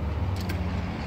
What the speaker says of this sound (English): A little bit of road noise, but it's quite nice out here.